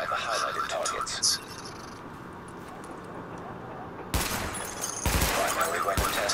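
Gunfire from a weapon test in the video game The Division: loud, dense bursts of automatic fire crack in from about four seconds on, after quieter game ambience with a voice speaking.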